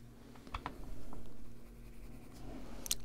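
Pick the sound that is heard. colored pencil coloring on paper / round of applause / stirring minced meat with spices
colored pencil coloring on paper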